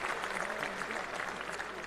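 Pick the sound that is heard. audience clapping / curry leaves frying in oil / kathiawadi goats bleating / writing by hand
audience clapping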